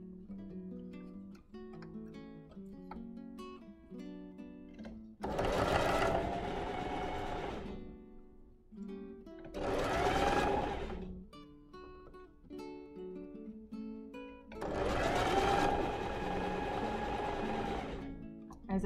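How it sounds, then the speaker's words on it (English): A sewing machine stitches a dress seam for a Sound of Music costume in three bursts of steady, whirring, rapid stitching separated by quieter pauses with soft background music. "I'll make sure you can see this on the sewing machine"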